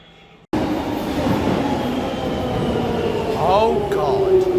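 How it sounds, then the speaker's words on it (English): A London Docklands Light Railway train rumbles steadily along the track from inside the carriage, with a continuous hum and brief squealing wheels on the rails. "It was my turn to ride on the sleek, shiny, new purple train."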